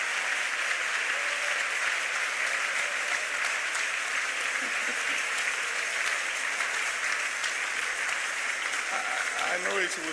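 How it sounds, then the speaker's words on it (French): A large church congregation at a French-language thanksgiving service claps steadily and loudly for several seconds, many hands blending into a dense, continuous roar, with faint voices surfacing near the end. "clap for yourself"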